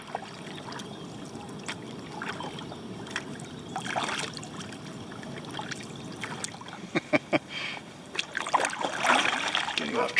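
Kayak paddle strokes dip and splash on Lake Wylie, South Carolina, in uneven bursts of near water swishes and drips over a soft, steady outdoor background, with a faint voice now and then.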